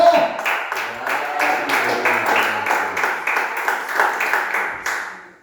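A church congregation claps hands together during a Portuguese worship service, many rhythmic claps in a steady beat under a reverberant room sound with a low voice beneath, fading out at the end.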